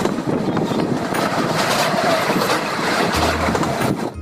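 A local train on the Sealdah to Bolpur run rumbles steadily from inside the carriage, with broadband rolling noise and wind buffeting throughout, a low droning tone rising near the end.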